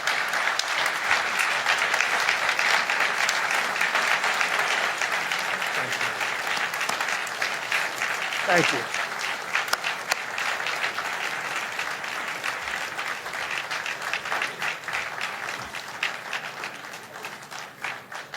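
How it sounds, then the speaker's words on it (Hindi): A standing ovation for a speaker as he finishes his address: loud, sustained applause from a large crowd that rolls on steadily, while someone briefly says a few words of thanks over it. "इन्होंने खड़े होकर किस तरह से तालियां बजाई"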